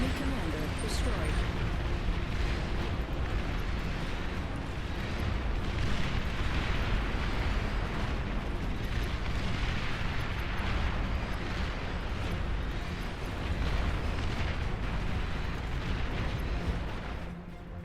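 Sustained battle din from the real-time strategy video game Beyond All Reason as an enemy commander is destroyed, dense overlapping explosions and artillery fire rumbling continuously and loudly, with speech faintly mixed in.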